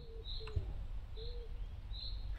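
Soft pigeon-like cooing heard in a horror video game, three brief calls spaced about a second apart over a low ambient rumble, with no talking.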